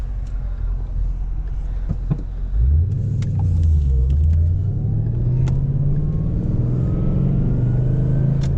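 A Ford Mustang V8 idles with a deep low rumble, then the engine is revved, rising and falling in pitch before settling into a steady throaty drone, heard close up from inside the car with no talking.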